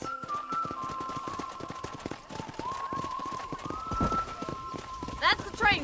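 Horse hooves clip-clopping at a trot in the video game Red Dead Redemption, steady rhythmic hits under continuous character dialogue, with a whistled tone and a brief neigh near the end.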